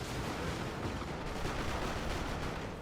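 Manticore artillery firing in Dawn of War II: Retribution, buried in a loud, constant battlefield barrage of gunfire and blasts with no pauses.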